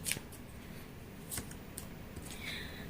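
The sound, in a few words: tarot card being drawn from the deck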